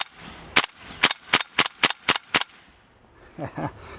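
Airsoft gun fired in a series of about seven sharp, evenly spaced cracks, close and loud, followed by a pause and a couple of softer clatters.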